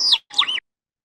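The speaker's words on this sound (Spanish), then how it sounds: "el tordo de matorral, que es un sonido bien agudo y potente." Two short, high-pitched whistled notes from a thicket thrush in quick succession, the second slurred and rising, loud and close, then silence.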